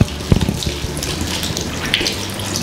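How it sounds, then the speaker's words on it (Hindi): Hands washed under a running tap, a loud steady gush of water with splashing and a few brief knocks near the start. "उसके बाद आपको अपने हाथ अच्छे से धो लेने हैं।"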